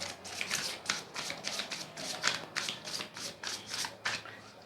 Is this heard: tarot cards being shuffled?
yes